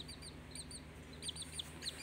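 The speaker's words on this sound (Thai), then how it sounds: "น้องไก่อันลูกชายเพิ่นตั้งชื่อว่าให้รวยรวยเนาะจ้ะเนาะ" A bantam chick gives repeated high, thin chirps in short bursts over a steady low background hum, fairly close and moderately loud, with no talking.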